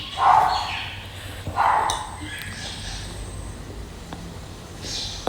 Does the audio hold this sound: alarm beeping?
no